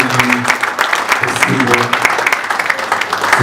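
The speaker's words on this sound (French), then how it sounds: "Un tonnerre d'applaudissements encore une fois, s'il vous plaît" Crowd applause at a 20 May celebration ceremony, a dense steady clapping that fills the clip, with voices mixed in beneath it.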